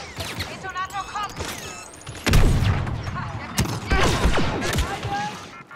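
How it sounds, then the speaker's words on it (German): Blaster gunfire and explosions from the Star Wars Battlefront 2 campaign: rapid shots, whizzing bolts and heavy booms crowd together, loud and continuous, with a player's voice speaking over the battle. "Wo kam denn der Schuss jetzt noch her?"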